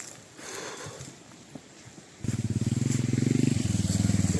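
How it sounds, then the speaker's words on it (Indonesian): A motorbike carries riders toward Keramikan crater in Suoh after a recent eruption. Quiet outdoor ambience gives way to the engine suddenly starting, settling into a steady, loud, close throbbing putter. "Kita naik motor Pak Parman ke kawah keramikan ya."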